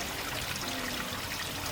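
Water trickles out of the ground at a hillside catchment near a banana root on a Jamaican farm, a steady soft babbling flow with no pauses.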